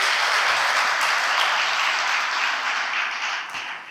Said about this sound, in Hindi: ये 8-10 लोगों के लिए तालियां बजानी चाहिए जोर से।